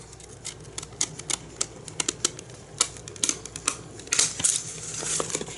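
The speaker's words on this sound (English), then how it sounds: "Let's cut this one that has the pretty flowers in there." Small scissors snipping paper to cut out flower stamps, a series of crisp irregular clicks and snips, close and quiet, with a quicker flurry of cuts near the end.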